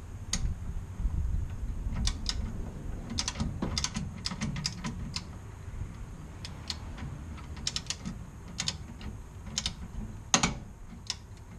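A torque wrench ratchets while tightening the upper fulcrum damper bolt on an MGB front suspension, producing close, crisp bursts of rapid clicking separated by short pauses over a low background rumble.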